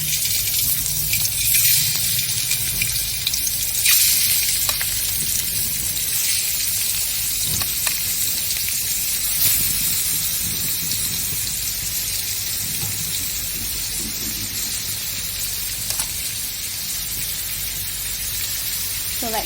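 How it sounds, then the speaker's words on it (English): Shrimp fry in hot olive oil with a steady, dense crackling sizzle that holds for the whole stretch, close and fairly loud, with occasional sharper pops. "So now that the oil is pretty hot, I'm going to put my shrimp."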